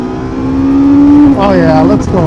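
A 2024 Suzuki GSX-S1000GT motorcycle engine pulls through a low-RPM roll-on, a steady rising drone that climbs in pitch, carries over wind rush and shifts near the end. A rider's voice may sound faintly underneath.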